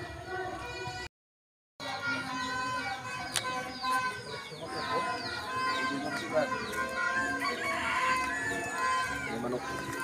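A rooster crows repeatedly in a rural provincial yard in the Philippines, its calls mixed with other bird chirps and clucking amid steady background noise, while people talk throughout.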